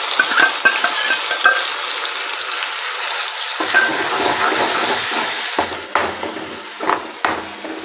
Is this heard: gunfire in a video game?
no